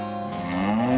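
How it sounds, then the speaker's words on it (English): Clarice the cow in a VCR board game gives a single drawn-out moo that rises in pitch and grows louder over about a second, standing alone and close. "That's Clarice the cow."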